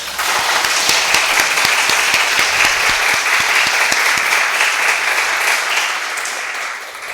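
A church congregation applauds together during a Sunday worship service, a steady dense wash of many hands that holds loud throughout and eases slightly toward the end, with no talking over it.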